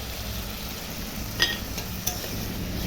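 Spices fry with chili paste and ground cumin in a pan, a steady low sizzle broken by two sharp utensil clicks against the pot.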